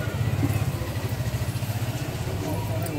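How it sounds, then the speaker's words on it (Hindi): A motorcycle engine putters with a rhythmic low throb, fairly close and steady as it approaches along an outdoor path under stormy weather. "देख बाइक आ रही है।"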